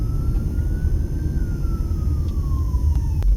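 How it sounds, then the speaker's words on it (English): A fire truck siren wails on Stewart Avenue in Las Vegas, one slow rising-and-falling tone held over a busy traffic rumble, fairly distant. "a fire truck is crossing right in front of us here"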